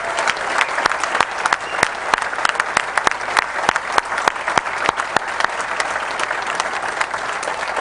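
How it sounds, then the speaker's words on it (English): A large banquet audience gives sustained, loud applause for the Greater Syracuse Sports Hall of Fame class of 2005 at its induction ceremony, dense clapping with sharp individual claps standing out throughout. "How about one more gigantic round of applause for our Greater Syracuse Sports Hall of Fame class of"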